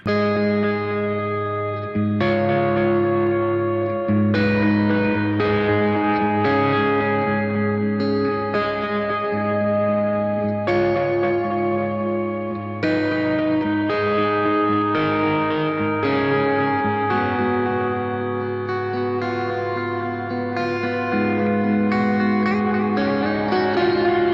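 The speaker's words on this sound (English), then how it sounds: "Let's hit the echo in." Electric guitar through a BOSS RV-500 pedal set to echo plus reverb, playing a steady stream of picked notes and chords whose repeats and long wash overlap continuously, loud and close with no voices.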